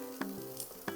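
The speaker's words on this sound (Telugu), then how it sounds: "బీన్స్ వేసి ఫ్రై చేసుకోవాలి" Capsicum, green chillies and beans fry in a pan with a soft, steady sizzle, broken by a couple of brief stirring scrapes, close and quiet with no one talking.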